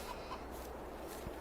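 Chickens clucking in the farming video game Farming Simulator 22, soft short clucks over a steady low game ambience, faint and fairly distant, with a sharper sound at the very end.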